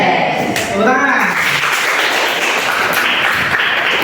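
A classroom of schoolchildren in an Islamic religious education lesson bursts into applause, a thick, steady patter of many hands that keeps going, while a teacher's voice and children's voices sound over the start.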